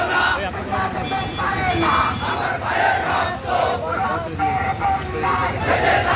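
A large protest march in Panchagarh demanding justice for the July killings, with a crowd chanting slogans in loud rhythmic call-and-response waves that fill the clip amid dense street noise.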